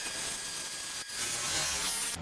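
Steady, dry rubbing hiss of light sanding on a silver maple burl, close and continuous with a brief pause midway.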